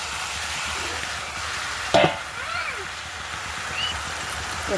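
Tomato pieces hit a pan of frying curry with beans, giving a low steady sizzle with a sharp clatter around the middle and soft stirring scrapes after.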